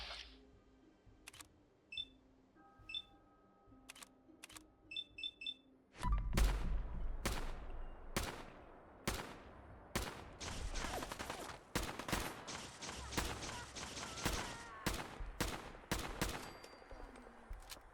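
Gunfire in Fallout 4, with a few sharp isolated reports and short metallic clicks at first, then a long run of loud shots at an irregular, rapid pace.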